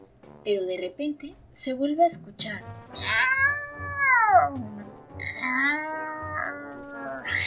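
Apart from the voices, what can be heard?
cat meowing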